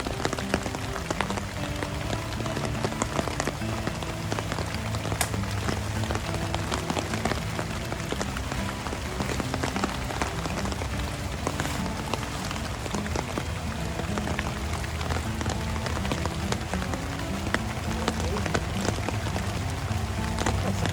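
Steady rain falls outdoors beside a river during a storm, a dense even patter of drops on surfaces continuing throughout without talk.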